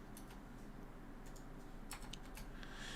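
Light, quick taps on a computer keyboard, a handful of scattered keystrokes over steady background hiss, soft and close with no talking.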